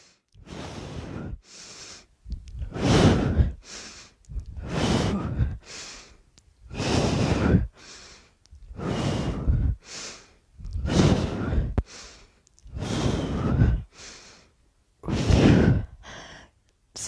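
Rhythmic forceful exhales repeat about every one to two seconds during bicycle twist core exercises, close and clear, with short breathy pauses between each breath and no talking.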